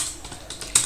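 A computer keyboard clicks under quick fingers typing a command, several light taps in under a second with a sharper final keystroke, close and clear.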